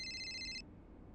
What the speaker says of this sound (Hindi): रेवती का फोन